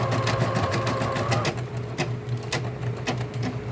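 A Bernina Deco650 embroidery machine stitches with a fast, steady mechanical whirr and a high whine, then slows into a sparser series of separate clicks and taps, heard up close.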